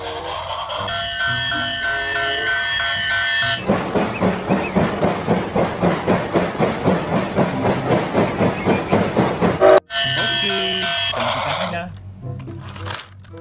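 A small toy train rattles along with rapid, regular clicking for several seconds, surrounded by music and a voice speaking before and after.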